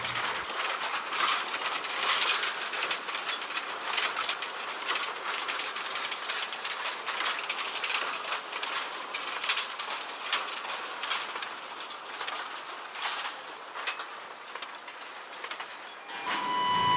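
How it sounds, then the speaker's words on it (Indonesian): Kyosan Kogyo locomotive hauling a short string of empty sugarcane lorries on a sugar-mill cane railway, with steady rattling, clanking wagon noise and metallic squeals throughout, fairly close, ending abruptly. "Namun lokomotif Kyosan Kogyo ini membawa rangkaian lori yang pendek teman-teman."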